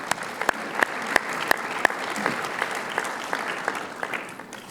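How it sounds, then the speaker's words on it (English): Steady round of applause from a luncheon audience at a golf awards event, many hands clapping together with a few louder individual claps standing out, sustained and fairly even throughout. "If you could give them all a round of applause for their hard work."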